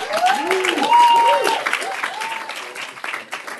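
A crowd at a film-industry diversity debate at Channel 4's headquarters claps steadily for the panel as a presenter's voice rises above the applause.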